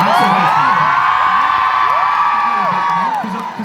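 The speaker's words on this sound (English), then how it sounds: "And clap a bit louder for that." An audience at a Louis Tomlinson Q&A at PRYZM cheers and whoops loudly, a dense crowd roar that holds steady, then fades slightly at the end.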